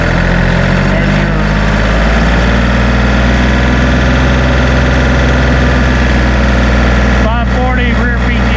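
A 2019 John Deere 3025E compact tractor engine runs steadily at PTO speed, a loud, close, continuous drone with a deep hum, and a voice comes in briefly near the end.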